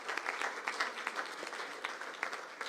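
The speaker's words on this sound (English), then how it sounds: "Let's give them a round of applause for their work." A small crowd at a Washington DC government press event gives a short round of applause for staff, scattered hand claps at a fairly faint distance, steady and unaccompanied by speech.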